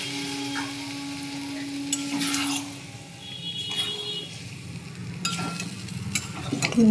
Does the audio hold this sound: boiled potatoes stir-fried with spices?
yes